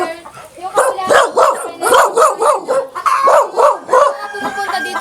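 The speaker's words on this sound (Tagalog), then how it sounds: "May mga aso." Several farm guard dogs at an egg farm bark and yip in a rapid, loud, close series of repeated barks, overlapping one another, with a brief whimper.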